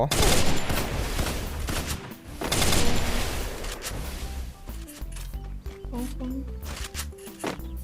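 Gunfire in the mobile shooter Free Fire: loud bursts of rapid shots give way to sharp clicking, mechanical reload-like sounds, with talking over the top.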